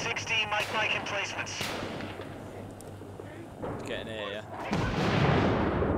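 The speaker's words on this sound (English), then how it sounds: "always with the mortars." Mortar and artillery blasts in the combat video game Six Days in Fallujah, heavy booming impacts rolling through a noisy battlefield mix, with someone talking over parts of it.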